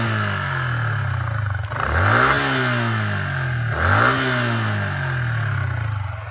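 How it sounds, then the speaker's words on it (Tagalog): Yamaha Sniper 150 motorcycle engine with a faulty cam chain tensioner, revved twice in two rising-and-falling sweeps over a steady idle, with a sharp mechanical whine and clatter up close. "mapapakinggan mo talaga na may sharp engine noise"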